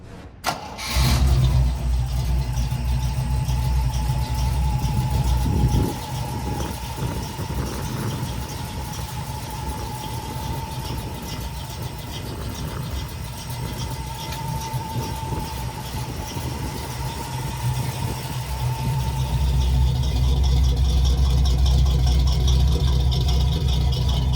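A 1979 Jeep CJ7 engine fires up and settles into a steady, loud idle with a constant low rumble, swelling slightly louder toward the end.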